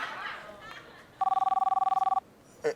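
A telephone ringback tone sounds during a phone call: one fast, steady, pulsing electronic ring that lasts about a second. Faint background noise comes before it, and a short burst of sound follows.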